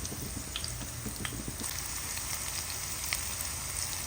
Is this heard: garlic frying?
yes